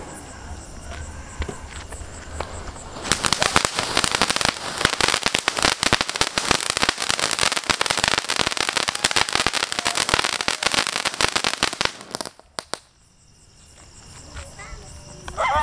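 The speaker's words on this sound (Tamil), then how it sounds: "அடுத்து வந்து லாலிபாப் வெடி இது" Lollipop firecrackers, Sivakasi crackers, bursting in a rapid crackling barrage of sharp pops that runs for about nine seconds, then stops abruptly, with voices in the background before and after.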